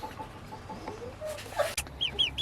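Soft clucks and murmurs from a small flock of Lavender Orpington chickens, with a few higher chirping calls near the end, fairly quiet against outdoor background.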